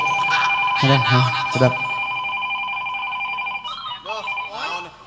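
A mobile phone rings in a steady, repeating electronic tone while people talk loudly over it, close and clear.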